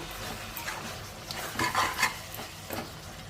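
A spoon stirs chicken curry in a hot pan, with a few scraping, clattering strokes over a soft background sizzle, close and moderately loud, no voices.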